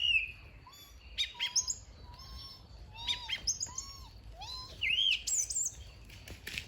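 A child imitates a bird, producing a close series of high whistled chirps, rising tweets and short trills in irregular bursts with brief pauses between them.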